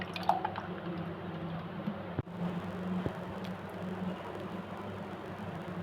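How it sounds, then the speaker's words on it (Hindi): Almond sharbat poured over a bowl of ice gives a soft, steady liquid trickle with faint drips and squishy splashes, low and continuous, with no talk. "अब इसमें हम ये ऐड करेंगे मज़ेदार सा बादाम का शरबत।"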